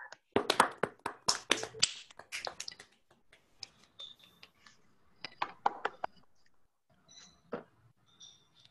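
Scattered handclaps from an online lecture audience, unmuted on a video call, come in a quick burst at first and then thin out into sparse, faint claps.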